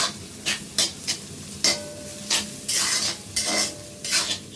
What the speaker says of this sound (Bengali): দিয়ে সব মশলা এগুলো সব একসাথে কষাবো।